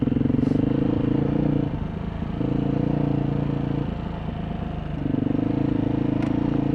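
A motorcycle rolls over wet branches on a snowy trail with a steady, close engine drone, alternating between louder pulling stretches and quieter coasting, with occasional clatter and scraping.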